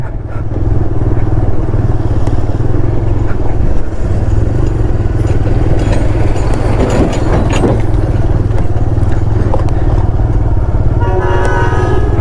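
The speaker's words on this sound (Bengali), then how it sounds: "হর্নের আওয়াজ শোনো।" A bus horn honks behind a motorcycle, a TVS bike, riding a rough, slippery mountain road from Birgunj to Pokhara in Nepal, with a loud, steady engine and road rumble throughout and a brief horn-like tone near the end.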